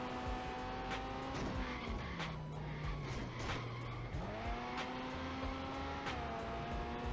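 Engine of a Nissan Skyline R32/R33-style car in an arcade racing game, revving steadily with rising and falling pitch through gear changes, tires squealing through corners, loud and continuous with no talk.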